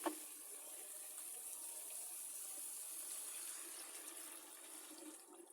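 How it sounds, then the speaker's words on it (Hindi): Steady stream of water pouring into a cooking pot for aloo gosht with chicken, a continuous close rushing splash that holds level for several seconds with no talking. "अब मैं इसमें डालूंगी पानी।"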